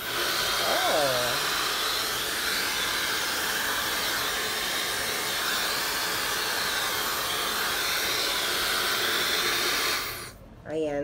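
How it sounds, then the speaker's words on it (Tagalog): A pink hair dryer, a copy of a Dyson model with hot and cold settings, blows with a loud steady hiss and whoosh close by, then cuts off briefly near the end; a voice speaks faintly at the start. "Normal na hair dryer lang din."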